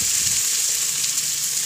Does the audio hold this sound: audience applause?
no